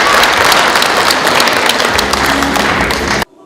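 A festival audience in Sosnogorsk claps warmly for child performers, loud and dense applause with a few distinct hand claps that stops abruptly near the end.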